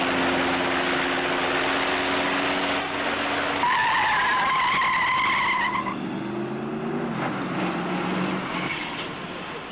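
A race car laps a circuit, approaching a fast, difficult first corner with little visibility: loud continuous engine drone whose pitch rises sharply midway as it passes close, then drops and fades.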